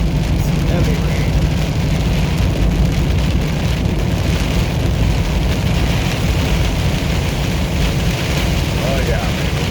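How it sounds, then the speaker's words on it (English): Heavy rain pounds steadily on a truck moving along a Texas interstate highway, a dense, loud, continuous wash of noise with road rumble beneath, and no pauses throughout. "Some heavy rain."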